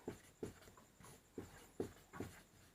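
A teacher's pen or chalk writes during a maths lesson on rational numbers, making soft scratchy strokes in about five short rhythmic bursts. The sound is quiet and close, with no talking.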